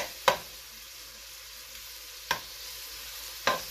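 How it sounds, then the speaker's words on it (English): A spoon stirs corn chowder in a pot on the stove, giving three sharp scraping clicks spread over a few seconds above a low steady background hiss, close and fairly quiet with no talking. "I'm over stirring."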